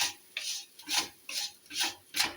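A spoon stirs sugar into milk in a pot for ras bhari, making six steady rasping scrapes in an even back-and-forth rhythm, close and soft with no talk.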